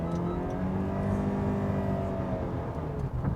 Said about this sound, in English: You can hear that engine and the CVT working.